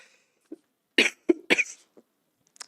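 Several short, harsh coughs in close succession during a council cabinet meeting, loud and close, followed by a faint throat sound, with no talking.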